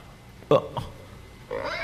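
Pigs in a pen give a couple of short, loud grunts up close, then a longer squealing oink, separated by brief quiet gaps.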